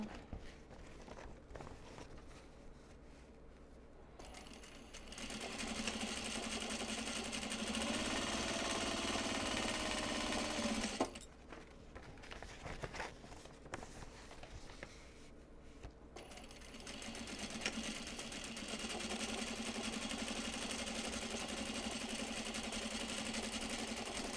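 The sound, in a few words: sewing machine winding thread onto the bobbin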